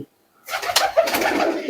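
Pigeons coo softly in a mixed collection of local and foreign birds, a short burst of close calls rising out of brief silence.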